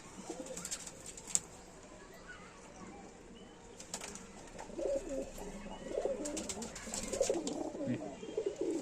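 Flying pigeons, including a short-feathered flyer, coo in a loft, their low rolling calls growing louder in the second half amid faint rustles, a brief wing flap and a few clicks.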